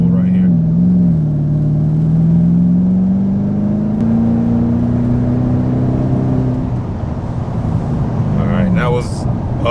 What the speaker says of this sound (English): second gear pull right here.